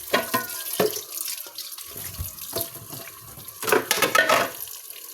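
Tap water runs and splashes while water containers are washed, a steady close spatter with irregular clunks and bursts of heavier pouring.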